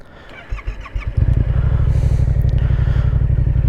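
A Yamaha MT-07 motorcycle engine starts and settles into a loud, steady, throbbing idle with a deep exhaust burble, heard up close.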